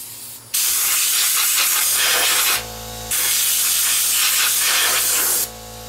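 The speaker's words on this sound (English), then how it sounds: "I'm gonna blow the dust out of here with my air compressor." An air compressor nozzle blasts compressed air into a Sony VO5850 VCR to clear out dust, two loud sustained hissing bursts separated by a short pause.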